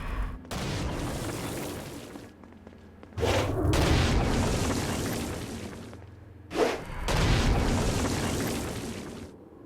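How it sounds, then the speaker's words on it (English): Stone Blast attacks in the video game Saints Row: Gat Out of Hell, three loud, heavy rumbling explosions, each with a sudden onset and a long roaring decay, separated by short gaps. "Stone Blast is especially useful on flying demons like this one."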